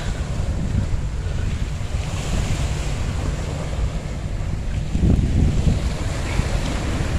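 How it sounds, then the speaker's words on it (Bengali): Sea waves wash and crash steadily against a rocky shore along Sentosa, Singapore, with constant wind buffeting the microphone and a louder surge breaking midway. "সমুদ্রের ঢেউ এসে আছড়ে পড়ছে পাথরের তীরে"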